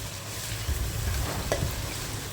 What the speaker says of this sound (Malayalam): എല്ലാം കൂടി ഒന്ന് വഴന്ന് വരട്ടെ